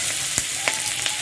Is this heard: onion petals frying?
yes